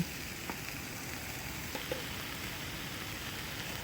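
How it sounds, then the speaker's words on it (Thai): Steady, soft sizzling of pork frying on a hot Thai grill pan, a constant crackling hiss with a few faint clicks, no voices. "ฟังเสียงหมูกระทะไปละกัน"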